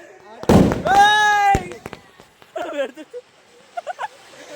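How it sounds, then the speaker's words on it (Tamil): A loud firecracker bang rings out at a Deepavali celebration, followed by a few smaller pops, while people shout and talk excitedly nearby. "வெடிக்குது"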